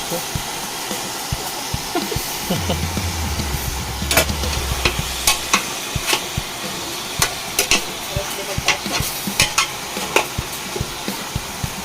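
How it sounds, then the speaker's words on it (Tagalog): A pig's head goes into a hot pan for a Filipino tomato-based dish, bringing a sizzle of frying with scraping stirs and a run of sharp clattering knocks against the cookware. "At ilagay na natin ang ating main ingredient, yung ulo ng baboy"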